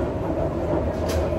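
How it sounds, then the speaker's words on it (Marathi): Riding inside a moving train, a steady low rumble and rolling rattle of the carriage fills the short stretch, continuous and close with no talk. "आता आम्ही ट्रेनमध्ये."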